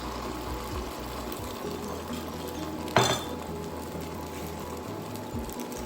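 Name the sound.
spreading omelet around in a pan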